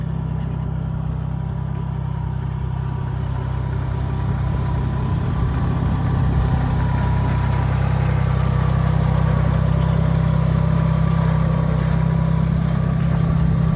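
Small farm vehicle's engine running steadily at a low, even throb while driving out across a field to spread, constant and fairly close for the whole stretch with no talk.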